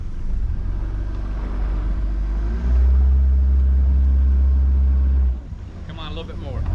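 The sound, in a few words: boat motor running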